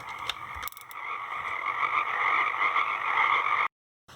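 Synthetic frog croaking from a circuit-bent noise machine on its frog setting, a steady dense chorus of electronic ribbits that runs loud and continuous, then cuts off abruptly near the end.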